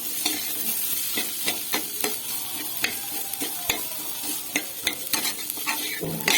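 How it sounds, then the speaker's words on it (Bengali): Mashed boiled potato being stirred into chana chaat, with a series of close scraping and clattering strokes of a spoon against the pan in an uneven rhythm over a light sizzling hiss, no voices. "তো এটিকেও ভালোভাবে একটু নাড়াচাড়া করে নেব"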